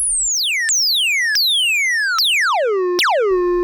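A Moog Labyrinth synthesizer's VCO 1 playing a bright, pure tone that swoops downward in pitch, retriggered five times in succession, each glide longer and lower, loud and clean with nothing else heard.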